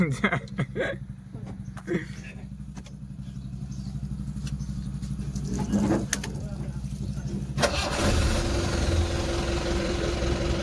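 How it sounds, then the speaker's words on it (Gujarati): A car engine idles with a steady, low mechanical rumble that grows rougher toward the middle, then becomes louder and fuller near the end, with a few knocks and a voice talking over it. "થઈ ગઈ ચાલુ હવે ગાડી ફૂલ સ્ટાર્ટ કરશું આપણી ગાડીને"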